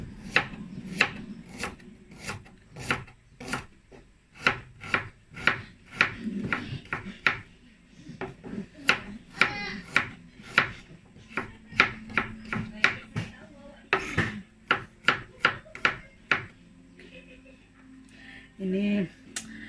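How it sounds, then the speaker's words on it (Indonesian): A knife chops onion on a wooden board in a village kitchen, making a fast run of crisp, close taps in uneven bursts, with a voice speaking now and then. "potong bawang dulu"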